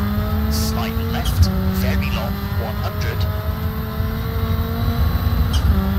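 A Hyundai i20 N rally car in the EA Sports WRC video game runs at high revs on a stage in Montagut, with a steady engine drone, a brief dip in pitch as it shifts, and a few light scrapes.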